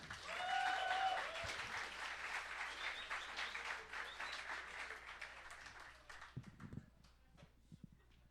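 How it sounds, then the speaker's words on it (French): An audience at a science and fiction event applauds a speaker named Charles, a full burst of many hands that slowly thins out over several seconds into scattered claps and room noise. "S'il vous plaît, un applaudissement pour Charles."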